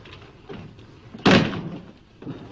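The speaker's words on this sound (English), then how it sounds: "Close the door." A door is shut with a single loud thud about halfway through, set against a quiet room with faint background murmur before and after.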